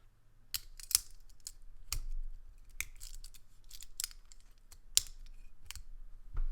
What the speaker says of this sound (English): It makes a lot of really good metal clicky sounds,